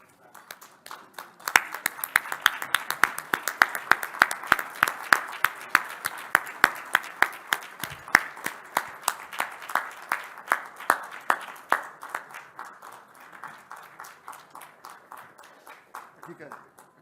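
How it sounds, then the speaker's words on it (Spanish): An audience breaks into steady clapping that swells to a full round of applause, then gradually thins and fades out near the end. "Les pido un aplauso para Brenda."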